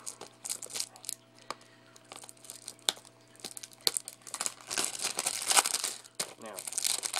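Fingernails tear and crinkle the plastic wrap off a Rayman Origins PS3 game case, a run of sharp crackles and rips growing busier toward the end, close and fairly quiet over a low steady hum with a voice speaking.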